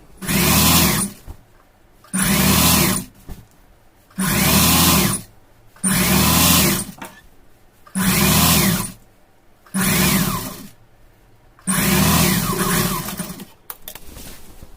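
Sewing machine stitching a half-inch folded bottom hem of a plain chudithar, running in seven loud, close bursts of about a second each, separated by short pauses, with no talking.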